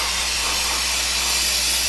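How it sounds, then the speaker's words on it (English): Brake cleaner sprayed from an aerosol can onto a disc brake caliper, aimed down and away from the piston seal and dust boot; a steady, close hiss runs unbroken throughout. "let's go ahead and spray it off with some brake clean"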